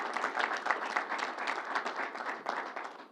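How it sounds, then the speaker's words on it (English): A crowd at a New York governor's coronavirus briefing bursts into applause, a dense, continuous spatter of many hands clapping at moderate distance that holds steady throughout without talk. "Let's give them a round of applause."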